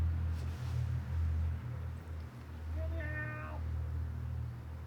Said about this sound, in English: That's Aggie the princess cat